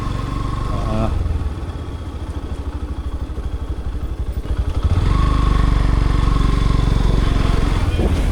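A motorcycle engine runs close by on a hill road toward Sajek Valley, a loud throbbing idle with a steady pulsing rhythm that swells louder and rougher partway through as it revs, with no talk.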